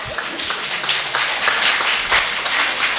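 An audience claps at a Hindi poetry recital (kavi sammelan) in Bareilly, a steady, dense wash of applause that carries on without a break and fills the hall.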